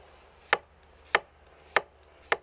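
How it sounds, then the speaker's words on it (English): Four evenly spaced, crisp knife strikes on a board as cucumbers are sliced, each a sharp close tap with a short decay, alone against a quiet background. "We peel and slice the cucumbers."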